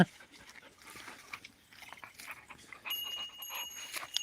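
A dog on a farm makes a few scattered, moderately loud sounds over quiet outdoor background noise, with a thin high whine coming in partway through.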